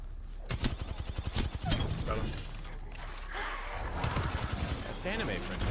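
Rapid gunfire bursts crackle at prowlers in an Apex Legends match, dense volleys in the first seconds, then scattered shots as voices talk over the action.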